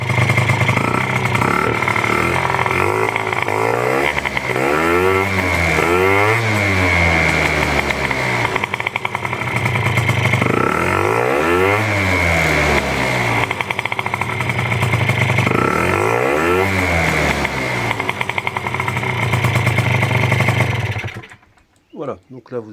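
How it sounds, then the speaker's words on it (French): A Peugeot Speedfight 2 50cc scooter with a Malossi kit, held up on its stand, starts and revs loud and close, its buzzing two-stroke engine repeatedly climbing and falling in pitch before cutting off abruptly. "là je le démarre, je vous fais voir comment il part en démarrage sur la béquille bien sûr"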